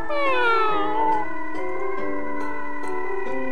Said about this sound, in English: apparently she meows as her noise to lure hunters